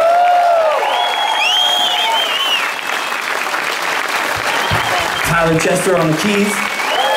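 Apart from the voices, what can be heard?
concert audience applause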